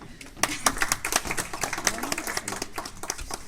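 Audience applause at a hypnosis stage show in a hall, a burst of scattered clapping from a small crowd, moderately near, with some voices talking over it.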